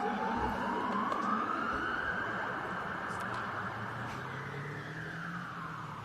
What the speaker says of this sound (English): Ambulance just beaming through.